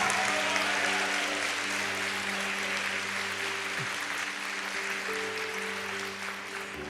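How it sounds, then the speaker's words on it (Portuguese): A church congregation claps loudly and steadily during a service, a dense, sustained wash of applause lasting the whole stretch over a low, droning tone. "Aplaude forte."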